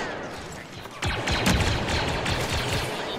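Blaster fire crackles through a Star Wars Battlefront II battle in a dense, continuous barrage of rapid shots and impacts, loud and close, rising in intensity after the first second.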